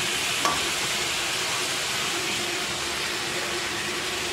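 Washed red lentils tipped into a pan of frying potato and ridge gourd, a continuous dense sizzle and hiss close up and steady throughout, with a faint clink at the start and no talking.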